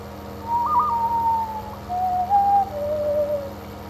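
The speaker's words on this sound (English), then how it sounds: "I just whistled that." A person whistles a short tune of a few clear sliding notes, rising and falling, close and fairly loud over a low steady machine hum from a farming game.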